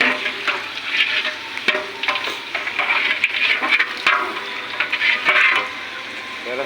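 Onions sizzle and crackle in hot oil while frying for beresta, with steady frying noise broken by scraping and stirring sounds from a utensil, close and fairly loud, with no talk.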